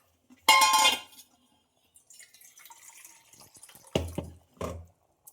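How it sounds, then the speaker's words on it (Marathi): Water poured into a pot of whole masoor dal masala rice, a short splashing burst followed by quiet pot clinks and two brief sharper knocks of utensils. "तर याला थोडीशी पाण्याची गरज आहे तर मी थोडं पाणी टाकते त्यात"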